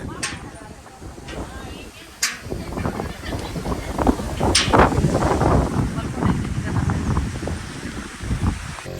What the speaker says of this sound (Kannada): ಜಾಗ ಸೂಪರ್ ಆಗಿದೆ, ಫುಲ್ಲು ಗಾಳಿ.